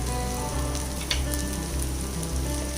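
Egg curry masala fries on a medium flame, a continuous close crackling sizzle with faint clinks, steady throughout and without talk.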